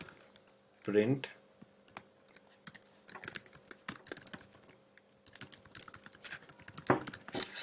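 Computer keyboard keys tapped in scattered clicks while entering Python code, soft and close, mixed in with someone talking.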